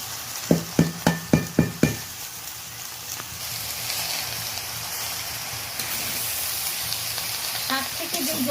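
Fresh home-grown spinach hits a hot pan with several quick sharp knocks, then sizzles and fries steadily while being stirred, a close crackling hiss with occasional scrapes.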